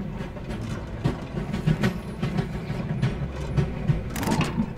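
A train in the game Voidtrain pulls into a station, giving a steady rumbling run with repeated clanking clicks and a brief hissing swell near the end, heard alone without speech.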